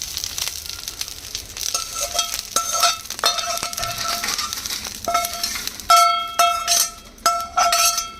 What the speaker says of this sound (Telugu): ఇది కొంచెం కొంచెం ఫ్రై చేస్తున్నాను నేను, 2 ఆయిల్ కింద వేస్తున్నానండి